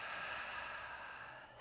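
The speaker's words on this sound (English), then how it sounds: "Breathing out." A single slow, steady exhale during guided meditation, heard close and soft as a breathy rush with nothing else around it.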